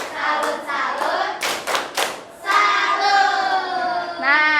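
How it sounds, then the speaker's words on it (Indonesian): A group of children claps out a rhythmic 'tepuk salut' cheer for Naura in a classroom. Bursts of sharp, close hand claps fall in short patterned sets, mixed with chanting voices. "Kasih tepuk salut dulu buat Naura"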